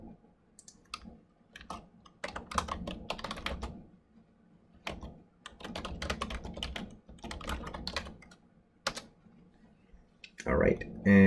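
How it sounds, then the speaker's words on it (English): Computer keyboard typing in short bursts of quick clicking keystrokes with pauses between, entering a test case title in test automation software, close and moderately loud. "I'll type my test case title."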